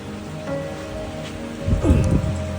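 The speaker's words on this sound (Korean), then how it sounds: "비가 너무 많이 온다" Heavy rain pours down steadily and close by, a dense continuous hiss with a few louder splashes of water hitting a surface.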